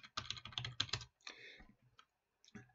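Password typed on a computer keyboard: a quick close burst of rapid key clicks, then a pause and a few scattered final taps, crisp and quiet with no talk.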